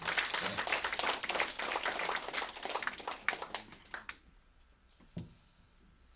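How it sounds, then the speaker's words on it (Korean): Crowd applause at a Gangneung election campaign office opening ceremony, dense clapping from many people that thins out after about four seconds into a few scattered claps, then near quiet. "더 큰 박수로 서로를 환영했으면 좋겠습니다."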